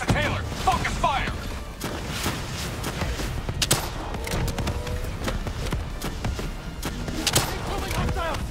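Dense battlefield gunfire in the video game Call of Duty: Black Ops 3, continuous overlapping shots and impacts at steady loudness, with voices shouting over the combat.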